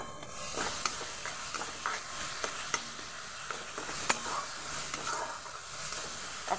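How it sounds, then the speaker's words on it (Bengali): Onions frying with ginger-garlic paste in a pan for a rui fish curry give a faint, steady sizzle, stirred with a spoon that adds scattered light scrapes and taps; no one talks. "পেঁয়াজটাকে একটু ভালোভাবে নাড়াচাড়া করে নেব"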